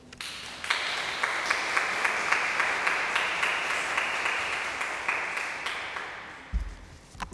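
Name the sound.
audience applause welcoming speaker Dr. Ed Hogan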